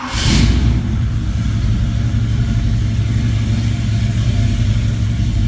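A 1967 car with a 396 engine, started ice cold, settles into a loud, steady idle after a brief burst at the start, a deep continuous rumble with no talk over it.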